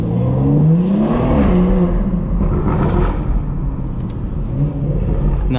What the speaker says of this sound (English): I thought it was the bike making all that noise, but it wasn't. It was a car